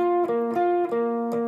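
Electric guitar plays a short octave lead figure from a song intro, with unplayed strings muted: sustained notes with a few light pick attacks, close and clear, alone.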